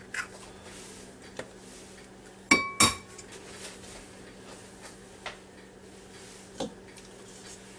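Three eggs are set into a bowl: two sharp, close clinks of shell against the bowl stand out, with a few fainter taps and knocks around them in an otherwise quiet kitchen.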